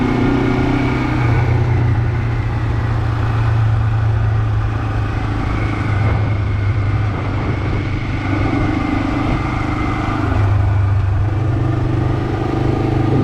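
A Honda CL450 motorcycle with just over 4,000 miles riding through a French valley in the Puy de Dôme region, its engine droning steadily and loudly throughout with a constant hum and a little mechanical clatter, no voices.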